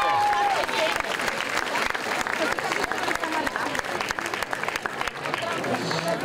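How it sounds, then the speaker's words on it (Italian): Audience applause rings out at a bridal fashion show parading wedding dresses from 1950 to 2015, loud sustained clapping from a crowd with a voice speaking over it. "Forza, facciamo ancora un applauso."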